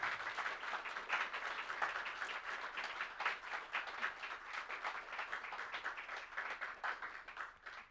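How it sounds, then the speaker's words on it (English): Conference audience applause on the main stage of ETHCluj 2026, a steady, sustained wash of many hands clapping, heard from a distance and fairly faint, with no talking. "You really don't need to applaud every round, but thank you."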